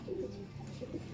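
A young racing pigeon coos softly in a low, murmuring call, a few gentle throaty notes close by against a quiet background.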